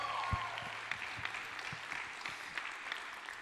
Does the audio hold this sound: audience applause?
yes